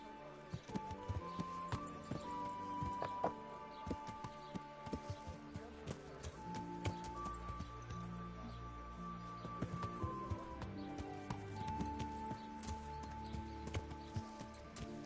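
Horse hooves clip-clop at a steady walking pace in the video game Kingdom Come, with background ambience and faint tonal music underneath and no speech over the steps.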